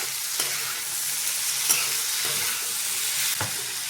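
Potato slices seasoned with Maggi masala and chili powder sizzle steadily in a pan while being stirred, with a few sharp scraping knocks of the spatula breaking through the frying hiss; no one speaks.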